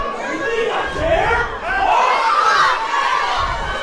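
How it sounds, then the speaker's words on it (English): A wrestler yells at the crowd during a wrestling match, with loud, rough shouting over constant crowd noise in the arena. "Listen to him just yelling at the crowd."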